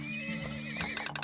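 Horses in the video game Turmoil neigh and whinny loudly over a steady game background, with faint hoof clip-clops mixed in, all without talk.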